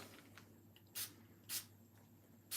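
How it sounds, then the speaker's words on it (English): A handheld spritzer mists water onto paper for card making in three short, crisp hissing bursts, fairly close and otherwise quiet. "I've just got a spritzer here. I'm going to add a little bit of water"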